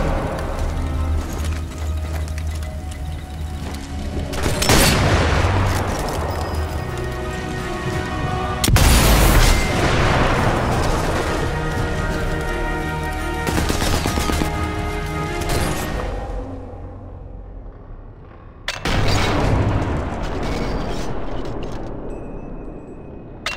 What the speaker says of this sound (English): Satchel bombs at the base will destroy it.